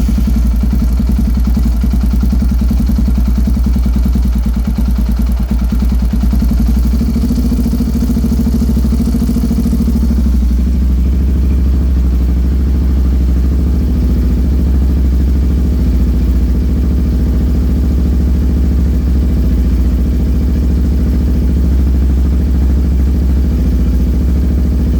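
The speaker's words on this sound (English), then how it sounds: "So I'm going to start the bike and do that adjustment." A motorcycle fitted with a Cuervo +3mm throttle body idles close by during an idle stop screw adjustment, a loud, constant low engine rumble with a slight shift in tone partway through.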